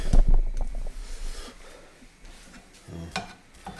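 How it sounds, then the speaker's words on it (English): Lean meat being broken up in a frying pan over medium heat: scattered utensil scrapes and knocks against the pan with a soft sizzle, close and moderately loud, strongest at the start. "So we're going to break this up. We're going to start cooking it."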